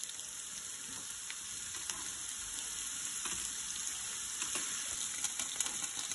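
Garlic, ham cubes and chicken bouillon fry in a pan with a steady, fine hissing sizzle and a few soft crackles, alone and moderately quiet.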